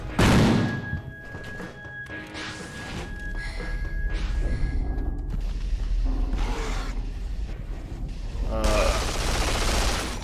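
Enemy gunfire in the video game Duke Nukem Forever comes as loud bursts of rapid shots and thumping impacts amid game sound effects, with someone talking over parts of it.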